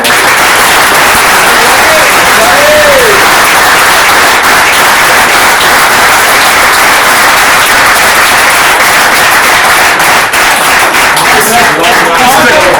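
Audience applauding Michael at a football club presentation afternoon, a dense, loud, steady wash of clapping filling the whole stretch, with some voices and cheering faintly mixed in.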